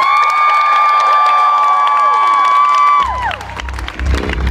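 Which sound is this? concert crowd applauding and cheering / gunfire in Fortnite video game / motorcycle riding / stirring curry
concert crowd applauding and cheering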